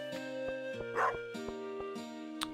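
Dog in a video game gives several short, sharp barks and yips in a steady rhythm over a bright, looping game music track, close and clear with no talking.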